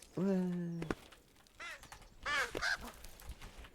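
Crows caw in the video game Peaks of Yore: one long, loud harsh caw, then a quieter call and a pair of shorter raspy caws shortly after.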